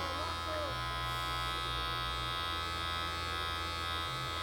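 An electric hair clipper buzzes with a steady low hum, continuous, close and fairly quiet, shifting pitch slightly partway through.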